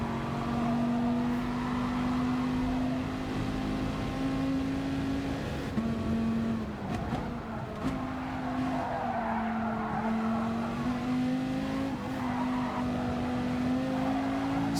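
Dodge Viper Gr.3 race cars lap Spa Francorchamps in the Gran Turismo video game, a loud sustained engine drone shifting pitch with repeated tire squeals and skids throughout.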